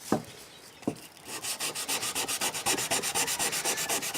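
Abrasive rubbing strokes take excess epoxy off a knife handle, two isolated swipes followed by a fast, even run of back-and-forth sanding passes, close and crisp.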